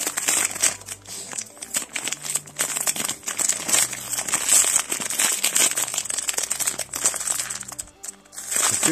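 Close crinkling and crunching of plastic packaging on a Poopsie Sparkly Critters toy can being cut with scissors and pulled open, with steady rustling and occasional snips.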